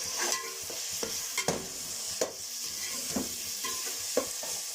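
Ground tomatoes and masala fry in a pan for chicken qorma, giving a steady close sizzle broken by repeated scraping stir strokes at an uneven rhythm, with no voices.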